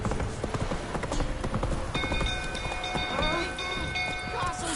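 Rhythmic hoofbeats of a horse named Roach galloping in a PlayStation 4 video game, steady clip-clop throughout, with game music tones and a voice talking over it.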